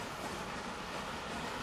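Heritage enthusiasts' train running steadily on rails, a continuous close rumble and rolling rattle with no break and no voices.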